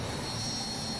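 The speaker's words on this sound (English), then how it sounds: "now I can hear the sound of the aircraft" Hawk jet flying past in Microsoft Flight Simulator, a steady broadband roar with a high whine, loud and continuous throughout without a clear rise or fall.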